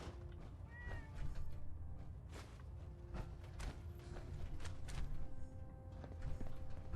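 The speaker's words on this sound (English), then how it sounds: "I heard a cat." A cat meowing in the video game Fallout 4: a couple of short, thin meows over busy game ambience with soft footsteps and scattered clicks, no talking.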